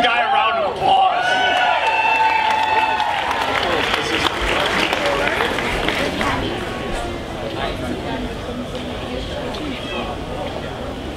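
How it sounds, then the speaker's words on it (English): Crowd applause at a UCF Knights fan tour event, dense clapping under cheers and shouted voices at first, then settling into steadier, slightly quieter clapping that carries on to the end. "Give the guy a round of applause."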